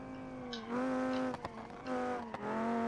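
Car tires squealing as the car oversteers on a public road in BeamNG.drive, a steady engine drone with two sustained screeching passes and short gaps, fairly loud and close.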